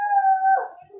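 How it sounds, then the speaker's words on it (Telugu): A dog outdoors lets out a single long, wavering howl that trails off into a short whimpering tail, fairly close and clear. "బయట కుక్కలు మొరుగుతుంది తెలుసా నీకు?"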